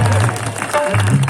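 Audience applause fills a Krishna leela stage performance, a continuous loud wash of clapping heard close, with a low voice and crowd noise blended underneath.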